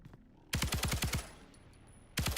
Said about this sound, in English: I just spent all my ammo testing my weapon.